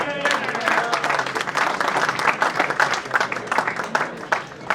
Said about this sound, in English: A big round of applause for Shalini.